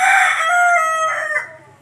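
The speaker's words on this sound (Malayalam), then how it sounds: "ഇടക്ക് കോഴി കരയണതുകൊണ്ട്" A rooster crows loudly and close by in one long, drawn-out call that fades at the end.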